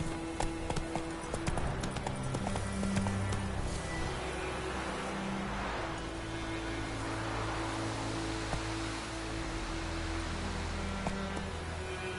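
Horse hooves clip-clopping in the video game The Witcher 3, a steady faint trotting rhythm under a wash of ambient noise like wind or rain.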